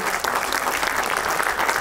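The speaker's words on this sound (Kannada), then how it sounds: "ಭುವನೇಶ್ ಮತ್ತು ಸಮಸ್ತ ಬಳಗಕ್ಕೆ ಒಂದು ಜೋರಾದ ಚಪ್ಪಾಳೆ ಬರಲಿ" Audience applause at a T-shirt and song release event, a dense, steady burst of many hands clapping close by, without voices over it.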